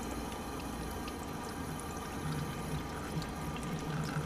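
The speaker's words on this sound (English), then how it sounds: "put cold water on, and as it bleeds, the water bleeds through" Cold tap water streams steadily from a faucet into a Berkey water filter element, a soft, even rush of flowing water with no talk.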